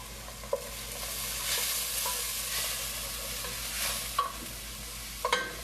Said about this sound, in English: I'm going to take the garlic and add it to my pan and turn the heat down a little bit more